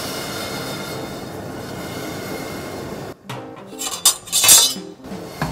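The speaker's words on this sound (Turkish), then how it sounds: "Ve şerbetimizi karıştırmaya başlıyorum." Syrup with a cinnamon stick and cloves is stirred in a pot, a spoon clinking and scraping against the metal in several uneven bursts. The stirring starts after a steady hum and is close and loud.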